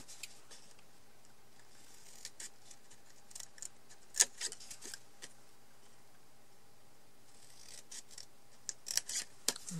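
Scissors cut paper for a handmade mini album, a quiet series of short crisp snips and light rustling close by, with faint ticks between cuts.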